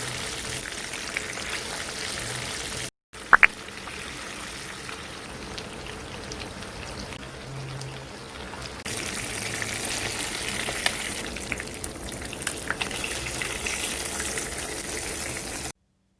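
Marinated fish fries in hot oil in a home kitchen, a steady close sizzle and crackle with occasional pops, briefly interrupted once.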